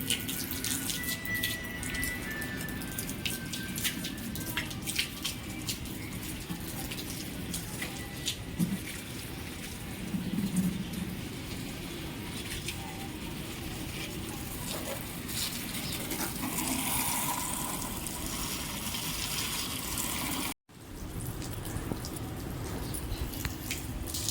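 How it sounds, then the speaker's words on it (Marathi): Water gushes steadily from a hose watering plants, a continuous hiss and splatter running for a long stretch with small shifts in flow, briefly cutting out near the end. "सगळ्या झाडांना पाणी टाकून घेतलं आहे मी पायपाने"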